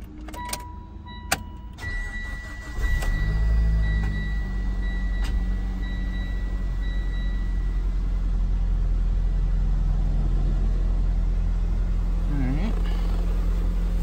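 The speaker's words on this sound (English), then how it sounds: "Interesting little sound on startup there." A Mitsubishi Lancer Evolution X engine with stock exhaust cranks and catches after a few faint clicks, then settles into a steady low idle rumble that continues.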